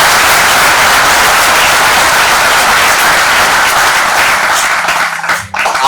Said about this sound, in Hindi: और सदन से चाहूंगा कि एक बार पुरजोर तालियों से हम स्वागत।